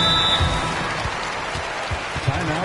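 A crowd in a basketball arena cheers and claps during a Clippers timeout in a steady, loud wash of applause and voices, with a faint thud or two beneath.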